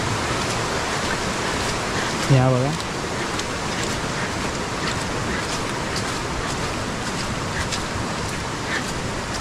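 Heavy floodwater rushing after sudden torrential rain in Konkan makes a steady, loud broadband roar throughout, with someone speaking briefly over it.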